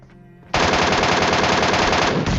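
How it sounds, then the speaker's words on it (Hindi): An MK14 rifle in PUBG Mobile fires a loud, fast stream of shots after a brief quieter moment, each crack closely spaced in an unbroken burst. "अब फाइट स्टार्ट हो चुकी है, क्योंकि मैंने एमके के 2 फायर कर दिए हैं"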